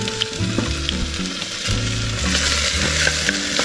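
Green pepper frying in a pan over low heat, with a steady close sizzle and crackle and some stirring scrapes, and no talk.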